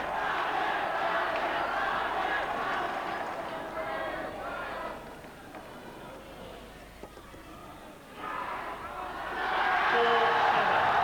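Crowd noise rises in an indoor arena during a 1996 men's singles badminton final, a broad roar that swells, dips in the middle, then surges again louder toward the end, with a commentator talking over parts of it.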